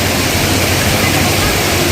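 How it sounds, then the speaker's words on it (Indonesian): Lemo waterfall in Lemo village pours in a loud, steady broadband roar that fills the whole stretch without a break, close and continuous. "Ini air terjun"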